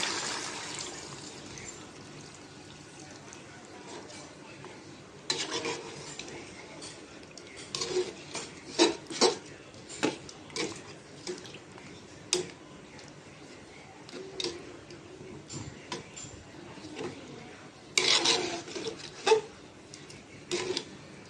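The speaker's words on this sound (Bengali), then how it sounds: "নাড়াচাড়া দিয়ে দিলাম ঢাকনাটা দিয়ে রাখলাম" Beef and potato curry simmering in a pot is stirred, giving scattered scrapes and metallic clinks in irregular bursts over a soft steady bubbling hiss, ending with a lid being set on.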